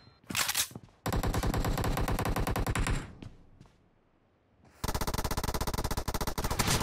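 Automatic gunfire in the BGMI battle game during a team deathmatch, with loud sustained bursts of rapid shots, a brief pause with scattered single shots, then another long burst.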